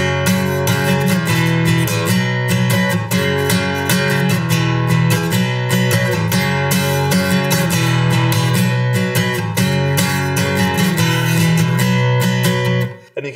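Acoustic guitar strummed hard and fast through the chord progression, a steady driving rhythm at full song speed, loud and close, alone without talk until it stops abruptly at the end.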